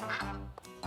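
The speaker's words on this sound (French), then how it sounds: "Oh, des canards." Cartoon ducks quack in quick nasal calls, with two or three short quacks over a brief burst of animated sound.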